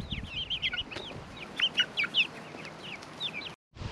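Several hens, including a feather-footed one, cluck and chatter in short, rising calls, fairly close, over a quiet outdoor farm background before a brief silence.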